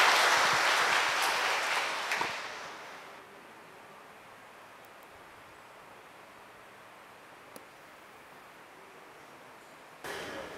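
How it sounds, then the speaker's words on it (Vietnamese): A church congregation applauding newlyweds at a wedding Mass, a broad wash of clapping that is loud at first, fades out within about three seconds, and leaves a quiet room with a faint stir near the end. "Cộng đoàn chúng ta nộp một tràng pháo tay để chúc mừng cho hạnh phúc của đôi bạn trẻ."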